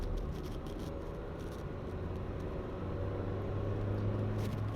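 Steady engine hum of a manual-transmission car rising slightly as the driver shifts up into third gear, a continuous low drone with road rumble throughout and no voices.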